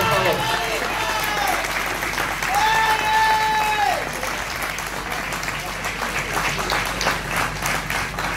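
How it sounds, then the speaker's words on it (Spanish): A crowd applauds after a kickboxing fight at a dojo ring, with sustained clapping and crowd noise under a loud, ringing tonal sound, steady from start to finish. "Fuerte el aplauso, por favor."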